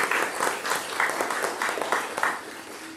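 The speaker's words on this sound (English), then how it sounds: "so another round of applause for David Fuentes." Lively applause at a ribbon-cutting ceremony for an urgent care clinic, a modest crowd clapping in fairly rhythmic bursts that fade slightly toward the end.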